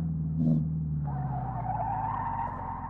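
A Chevette Tubarão 1.6 naturally aspirated braking hard in Live for Speed, engine droning low before a long tire screech rises and holds, loud and close, with no talking.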